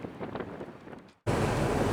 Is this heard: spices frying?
no